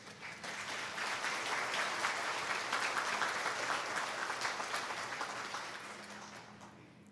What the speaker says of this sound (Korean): 우리 박완주 목사님 나오실 때 큰 박수로 환영해 주시기 바랍니다.